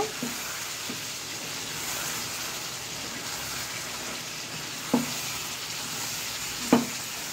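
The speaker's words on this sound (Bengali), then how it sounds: "আবার একটু খুলে নাড়াচাড়া করে নেব।" Chicken curry meat sizzles in a pan while it is stirred, a continuous frying hiss with a few distinct clunks of the spoon against the pan spaced seconds apart.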